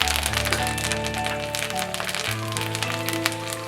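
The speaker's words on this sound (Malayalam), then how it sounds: "ചീനച്ചട്ടിയിലേക്ക് 2 ടേബിൾ സ്പൂൺ എണ്ണ കൂടെ ഒഴിച്ച് എണ്ണ ചൂടാകുമ്പോൾ കടുക് ഇടുക" Mustard seeds spluttering in hot oil in a pan, a dense crackle of rapid pops and sizzles heard up close, with a steady tonal hum underneath.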